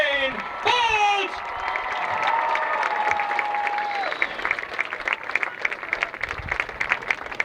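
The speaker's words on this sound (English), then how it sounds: "A round of applause for the fastest man in the world, Usain Bolt!" A crowd at a track meet applauds and cheers for sprinter Usain Bolt, loud clapping with whoops and a few shouting voices rising over the steady roar.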